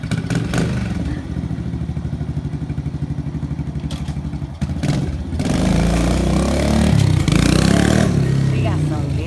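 A 2011 Kawasaki KLX110 pit bike, electric start with a four-speed gearbox and fully warmed up, runs with a steady pulsing idle, then revs up loud and close with rising throttle for several seconds.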